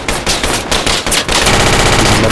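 Sustained automatic gunfire from the tactical military shooter Project Reality during a harbor assault, loud rapid bursts overlapping in a dense continuous barrage with no voices over it.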